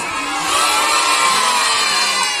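A theatre audience of children shouts loudly and continuously in a packed hall, a dense, steady roar of young voices sustained throughout.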